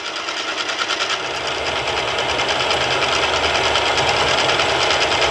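Round column milling machine cutting a hole in metal, a steady loud whirring drone with a rhythmic mechanical flutter that holds throughout without any voices.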